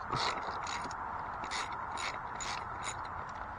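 A socket ratchet loosens the axle bolts on an e-bike, clicking in several quick bursts of pawl ratcheting, close and fairly loud, with no voices.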